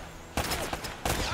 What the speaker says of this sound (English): Hey, don't shoot at Elena.